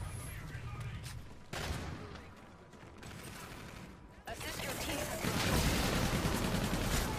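Rapid video-game gunfire bursts close and loud, with a voice talking over the shooting and the clatter growing denser toward the end.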